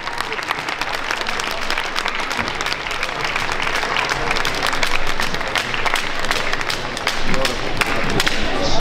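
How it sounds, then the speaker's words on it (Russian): Loud, sustained applause from the audience at a ProAm ballroom dance competition in Minsk, dense clapping with some thumps and voices mixed in, swelling slightly toward the end. "Приветствуем аплодисментами."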